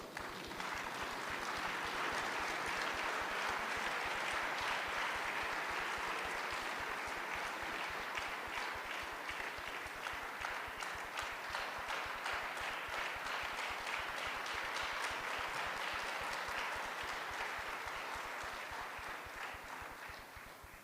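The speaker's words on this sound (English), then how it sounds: "May we all stand up for the MEC and give her a big round of applause." A standing audience at an official G20 event in the Free State gives a long, dense round of applause for the MEC, sustained and even for about twenty seconds before tapering off.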